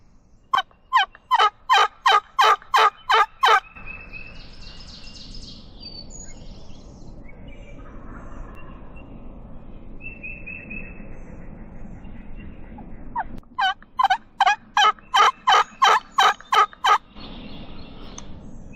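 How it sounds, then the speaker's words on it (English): Wild turkey gobblers call in bursts of rapid, rattling gobbles, two distinct runs at the start and near the end, with quieter outdoor ambience and faint distant calls between them. "I can hear 2 or 3, maybe even 4 gobblers off this direction"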